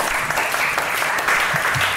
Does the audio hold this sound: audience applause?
yes